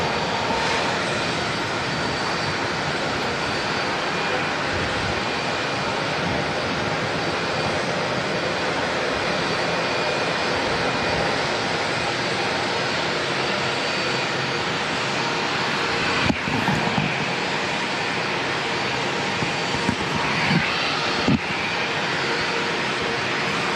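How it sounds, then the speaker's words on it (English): A Jetstar jet aircraft idling at Auckland Airport, giving a continuous steady engine roar and whine that holds for a long stretch with little change, apart from a couple of brief faint knocks. "Might actually be one of the Jetstar aircraft here that we can hear idling away."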